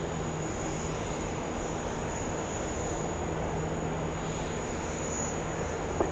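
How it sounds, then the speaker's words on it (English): Qantas 588 taking off from runway 16 left at Sydney, a moderate steady jet rumble heard from a distance with a thin high whine running above it. "Qantas 588, runway 16 left, clear for takeoff"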